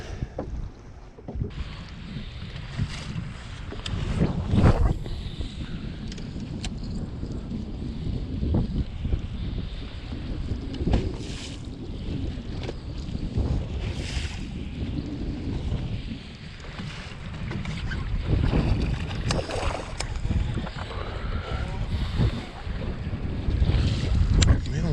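Wind gusting across a lake while fishing from a boat, a steady rumbling buffet against the microphone with lapping water and faint knocks, no talking.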